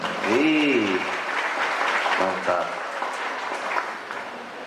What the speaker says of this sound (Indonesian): Tepuk tangan buat Hadrohnya dong.